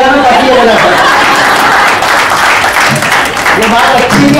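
Audience applause at a group event, a dense, steady clatter of many hands clapping that fills the whole moment, with voices mixed in underneath.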